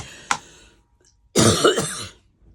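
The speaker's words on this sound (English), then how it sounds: "I got a cough now" A single sharp cough or throat clear, then a longer harsh burst of coughing, close and fairly loud, with quiet gaps around it.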